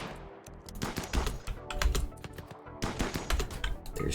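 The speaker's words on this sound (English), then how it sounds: "So let's start shooting." Gunfire from a squad shooting at raiders in the colony game Rimworld, set in an extreme desert: a string of sharp, clicky shots in irregular bursts, fairly close and loud, with no talking.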